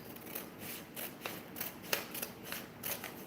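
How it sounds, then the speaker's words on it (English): Close, crisp snips and rustling of scissors slicing through paper, a handful of short cuts in an uneven rhythm. "These are good scissors."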